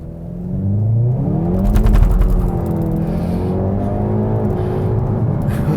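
A Hyundai i30 Drive N Limited with a dual clutch transmission accelerates hard from a launch, its engine note rising loud and close through the gears in a continuous strong roar.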